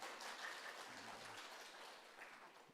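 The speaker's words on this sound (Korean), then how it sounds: "이것은 우리 장로님을 축하하기보다 먼저 하나님의 은혜를 감사하는 박수입니다" A church congregation at an early-morning worship service gives a short round of thankful applause, fairly faint and distant, tapering off gradually.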